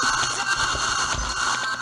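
Spirit box radio sweeping rapidly through FM stations, a dense hiss of static broken by fast choppy fragments, steady and fairly loud for a brief stretch.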